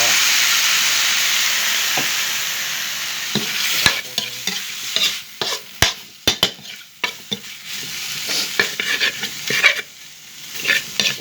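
Eel is stir-fried in a pan, starting with a loud, steady hot sizzle that thins out. Sharp metallic scrapes and clanks of stirring follow in an irregular rhythm, close and free of speech.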